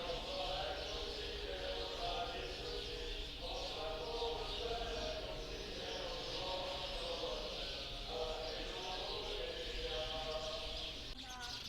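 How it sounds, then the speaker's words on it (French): Birds chirp and sing around a chapel in the town of Yessentuki, a steady layer of small calls carrying through the space at moderate distance, with a voice talking quietly over them. "Écoutez le bruit des oiseaux."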